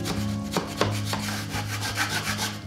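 A scraper rasps the texture off a drywall ceiling in steady back-and-forth strokes, a close, fairly quiet scratchy rubbing with sharper catches now and then over a faint constant hum, with no talking.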